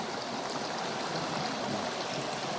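A creek near the Tower House in Old Shasta flows with a steady, close, broadband rushing wash that stays even throughout, with no voices.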